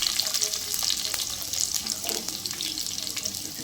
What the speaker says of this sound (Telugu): ఉల్లిగడ్డ వేసేసుకుంటున్నా.